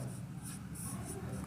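Pen or chalk writing during a Class 6 Hindi-language math lesson on numbers, a faint steady scratching that runs through the whole short stretch without talk.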